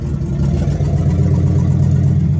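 A 1970 Chevelle SS with its matching-numbers 396 engine idles steadily with a low, rumbling exhaust drone that stays constant and fairly loud throughout.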